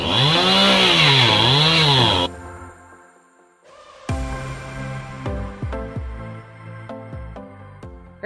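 A chainsaw with a dull chain cutting firewood: a loud revving whine that drops off, followed by a run of sharp, rhythmic sputtering bursts as the engine stumbles near empty.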